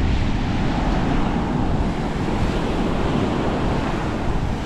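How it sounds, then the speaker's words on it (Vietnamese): Large waves break on Thuận An beach near Huế on a windy winter afternoon, a loud, unbroken roar of surf mixed with gusting wind buffeting the microphone. "Con sóng rất là lớn luôn vì gió."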